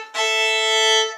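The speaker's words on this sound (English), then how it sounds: "The bowing with open strings is going to sound like this." Violin bowing a sustained double stop against an open string, one steady bowed tone swelling in after a brief start and holding for about a second, close and fairly loud with no talking.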